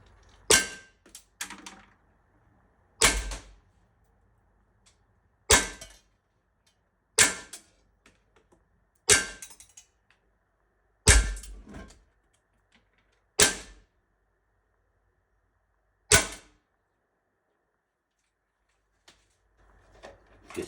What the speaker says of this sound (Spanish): Me quedan 8 disparos, dispararé 5 o 6.